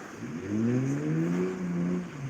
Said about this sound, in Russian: она еще какая-то специальная машина-то, без глушака или как турбо